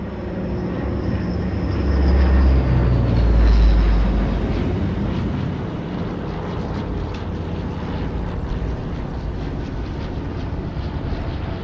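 An aircraft passes overhead in a zombie survival game, a loud, broad engine roar that swells to a peak and then settles into a steady drone.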